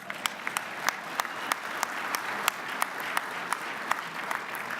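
A crowd at a Chicago legislative conference applauds a mayor's announcement, a loud continuous wash of clapping punctuated by sharp individual claps standing out at fairly regular intervals.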